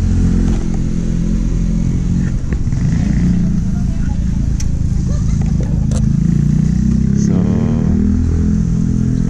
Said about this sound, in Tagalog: Tatabi ko muna yung motor natin dito